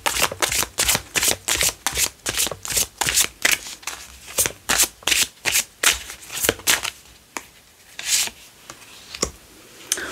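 Tarot cards for a reading are shuffled close by in quick rhythmic riffles, about twenty crisp bursts, slowing and thinning toward the end.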